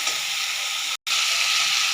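A steady, dense sizzle of paste frying in hot oil, loud and continuous, with one brief dropout midway.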